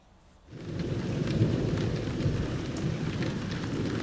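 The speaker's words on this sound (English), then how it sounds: "there's a few storms around" A thunderstorm at a marina arrives as a dense wash of heavy rain and deep rumbling thunder that swells in after a quiet moment, then holds steady and loud with no talking.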